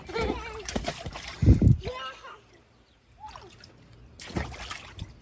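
Children splashing while playing in water beside a house on a hot day, bursts of sloshing and splatter mixed with kids' voices and squeals, some quiet moments between splashes.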